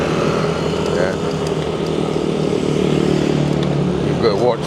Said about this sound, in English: You've got to watch for motorbikes here.